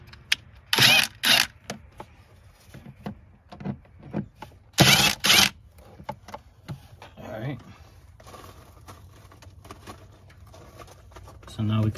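A socket wrench ratchets loose two hose clamps on the 4.0L V6 engine of a Dodge Nitro during fuel injector replacement, heard as a couple of short, sharp bursts of clicking near the start and middle with quieter handling noise between.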